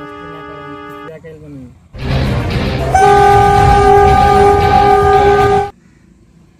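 A train roars past at close range with a loud, sustained horn blast over the rumble, then the noise cuts off abruptly; a voice is heard just before.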